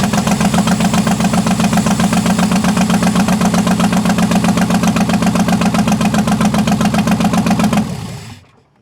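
A Dodge Daytona 4WD engine with fuel injector problems runs loud and rough with a rapid, steady knocking pulse for about eight seconds, then cuts out abruptly into silence.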